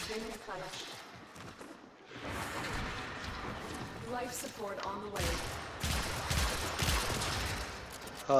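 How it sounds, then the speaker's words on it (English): Warframe gameplay gunfire crackles in rapid bursts through the scene, mixed with game effects and fairly steady background noise, while voices talk over much of it. "Oh, that was some bad shooting, dude."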